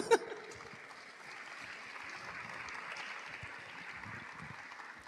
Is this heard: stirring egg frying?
no